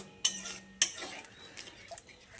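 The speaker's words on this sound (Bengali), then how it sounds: "দই ও কাজুর পেস্টটা দিয়ে আবার ও মশলার সঙ্গে খুব ভালো করে মিশিয়ে নিচ্ছি" A utensil scraping and clinking in a pan while cashew and curd paste is stirred into masala for a vegetarian potato and pointed gourd korma: two sharp metallic taps followed by softer scraping, close and quiet.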